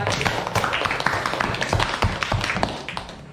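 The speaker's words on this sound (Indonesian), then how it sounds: "kita beri tepuk tangan yang meriah untuk kelompok" Classroom applause for a student group after a presentation, a dense, uneven patter of clapping hands from a small nearby crowd, steady throughout with no voices standing out.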